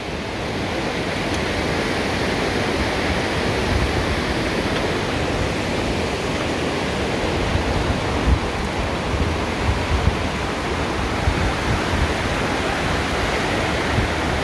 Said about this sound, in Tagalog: Guys, so may maliit na falls pala dito.